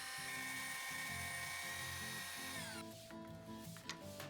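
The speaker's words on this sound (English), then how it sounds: "we drill again at the place where he marked down for the light case." A high-pitched drill whirring steadily at a distance, its pitch dropping partway through as it continues running.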